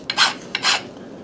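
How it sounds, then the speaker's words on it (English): A metal file rasps twice across the burred edges of freshly cut metal, two short, close scraping strokes with a brief pause between them. "I just use a file and grind the edges a little bit, take off the burrs"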